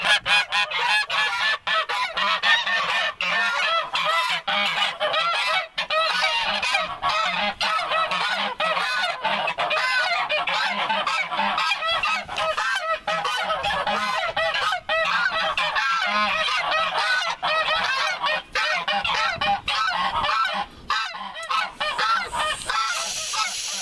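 Geese honking loudly and almost without pause, a dense chorus of harsh, overlapping honks close by for a long stretch.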